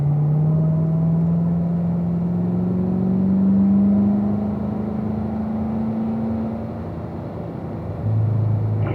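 A car accelerating hard out of a curbed turn on a race track, its engine droning steadily and climbing in pitch, close and loud from inside the cabin with no talking.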